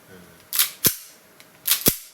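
Four sharp, snappy shots from a Tokyo Marui Glock 17 Gen 4 airsoft gas pistol fire in two quick pairs, close and crisp, with a faint click in between and quiet room noise around them.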